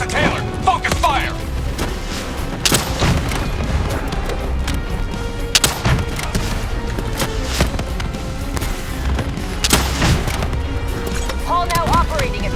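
Dense gunfire in the video game Call of Duty Black Ops 3 during a fight against an enemy called Hall, with rapid shots, booms and impacts over constant combat noise, while voices talk throughout.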